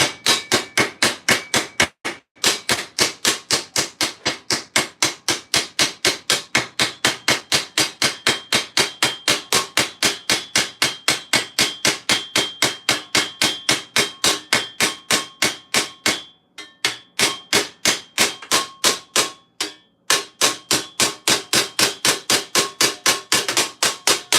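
Rapid, steady hammer blows set rivets into SCA armour, a long even series of sharp metallic strikes at close range with only a few brief pauses, loud and without talk.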